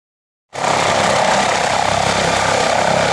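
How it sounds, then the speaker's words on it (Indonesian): Helicopter flying, a loud dense rotor and engine roar that begins suddenly and holds steady with a faint rapid throb, close and unbroken. "helikopter"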